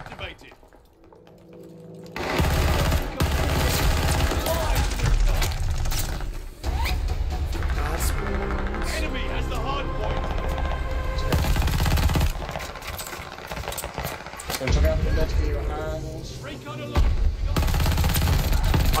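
Rapid gunfire in a Call of Duty Vanguard multiplayer match, dense automatic bursts and shots rattling almost continuously for many seconds after a quiet opening, loud and close, with brief gaps.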